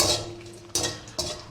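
Dried red chillies in mustard oil in a pan: a steady close sizzle broken by two sharp scraping strokes of a spoon against the pan.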